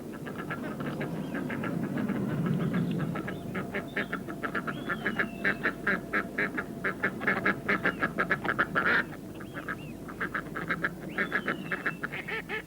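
Ducks on a decoy pond, a dense chorus of rapid quacking building into repeated rhythmic calls, fairly close, with occasional higher whistling notes.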